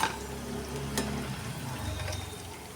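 Raw potato snack pieces frying in oil in a pan, a steady close sizzle with a brief clink partway through.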